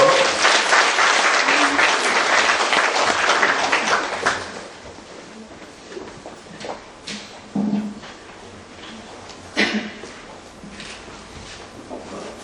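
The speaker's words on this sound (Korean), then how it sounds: "우리 박수를 한번 드리겠습니다" A church congregation applauds loudly and densely for about four seconds at a Korean Presbyterian church's tenth-anniversary service, then the clapping thins into scattered claps and faint room noise.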